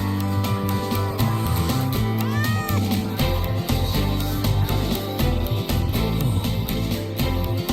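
A frightened cat meows in the video game Wuthering Waves, its cries rising briefly over a dense, continuous bed of game music and ambience.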